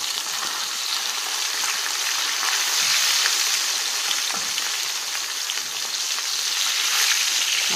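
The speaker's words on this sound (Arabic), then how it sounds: "زي ما انتوا شايفين يا بنات السمك اتحمر معانا اهو" Mackerel frying in hot oil, a steady dense sizzle with fine crackling pops that holds at an even level throughout, close up with no voices.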